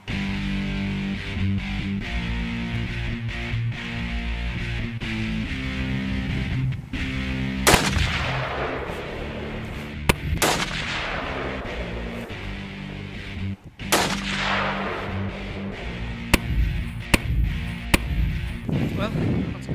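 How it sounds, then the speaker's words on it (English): Hunting rifle fired at target practice: a few loud, sharp shots spaced several seconds apart, each with a ringing outdoor tail, over a steady droning background and someone speaking. "I'm going to shoot it real quick, see if it's still on"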